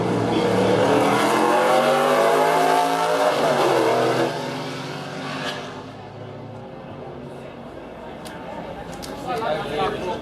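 V8 Supercar touring cars at a motorsport festival in Adelaide roar past loudly with rising and falling engine notes, then fade into distant engine noise and faint crowd sounds.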